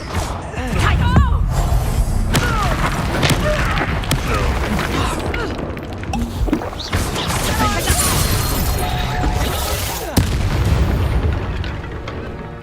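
A Confringo fire spell in the Hogwarts Legacy video game sets off booming explosive blasts and crashing impacts, loud and dense across the whole stretch, layered with game effects and music.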